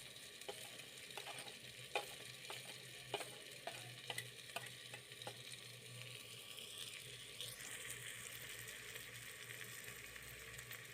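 Masala for egg biryani, with salt, red chili powder, turmeric and biryani masala, sautéed and stirred in a pan: a steady low sizzle under repeated scraping and clicking strokes of the spoon, fairly faint and without any talking.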